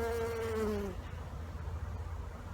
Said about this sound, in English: You got a couple bees coming out right there.